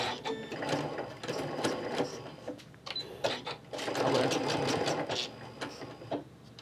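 A sewing machine stitches fabric close by, a steady whirring run of needle strokes that pauses and restarts in bursts, with no voices over it.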